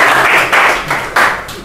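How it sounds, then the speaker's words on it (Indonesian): A classroom gives a short round of hand clapping for a student group after its presentation, loud and close, with a few bursts swelling and fading in quick succession. "Ya, tepuk tangan buat kelompok."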